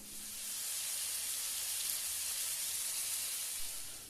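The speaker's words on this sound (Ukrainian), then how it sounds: "Сковорідка, шматочок вершкового масла, розтоплюємо, додаємо цукор і смажимо яблучко" Steady, bright sizzling hiss of apples frying in melted butter and sugar in a hot pan, continuous and fairly close, with no talking.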